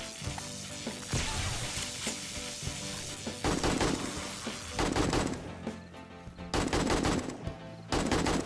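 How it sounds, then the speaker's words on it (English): Bursts of rapid gunfire in 7 Days to Die, fired down at a zombie horde pounding on a reinforced concrete base wall during Horde Night; loud, repeated volleys with short pauses between them. "I'm just kind of casually shooting down at them as they beat in the wall"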